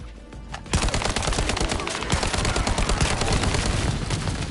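Gunfire in the video game The First Descendant starts after a brief quiet moment, then a loud, dense stream of rapid shots continues without pause to the end.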